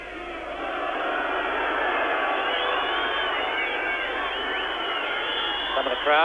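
Rugby league crowd at a 1985 New Zealand vs France test match, with Kiwi supporters making a broad, sustained roar of jeering and shouting at the decisions, swelling steadily and ending in a brief louder burst.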